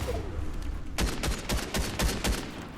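Rapid gunfire in the Fortnite video game: a quiet rumble gives way to a burst of about eight sharp, loud, closely spaced shots, with no talking.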